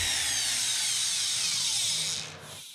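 A Festool eccentric sander runs across a surface, giving a bright, steady whirring hiss that holds for a couple of seconds and then winds down as it is switched off.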